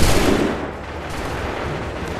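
Musket volley in Assassin's Creed III: a single heavy, booming burst of massed gunfire at the start that rolls off into a lingering rumble and crackle, loud and close.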